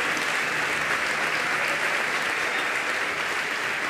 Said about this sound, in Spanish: les pido también un cariñoso y un fuerte aplauso para los técnicos que hacen posible que esto pues salga más lucido